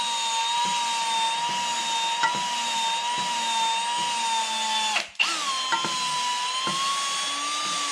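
Valve seats on a cylinder head from a 1973 Chevelle SS 454 are ground with a power tool, giving a steady, close, high-pitched whine that holds for several seconds, dips briefly midway, then resumes.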